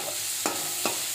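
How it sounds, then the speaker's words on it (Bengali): Bitter gourd frying in a pan with a steady faint sizzle, broken by two brief scraping stirs of a spatula against the pan. "এই উচ্ছেটা ভাজলে আমার রান্না আজকের মতন শেষ হবে।"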